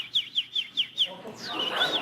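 A woman imitates bird calls on stage, whistling five quick, evenly spaced chirps close up, then a longer warbling trill over a soft background murmur.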